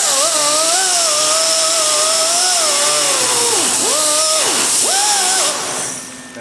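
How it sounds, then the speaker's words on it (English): A small cutoff wheel grinds a weld tack off metal, whining steadily at close range. The pitch sags and recovers several times as the wheel bites, and the sound stops briefly near the end. "I'm going to go ahead and grind that tack back off there"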